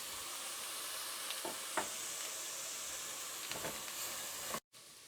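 Onions, ginger, dried and green chillies sautéing in a home kitchen pan for bhindi masala, a continuous soft sizzle and hiss with a few brief scraping stirs, then a sudden short cut before the frying resumes.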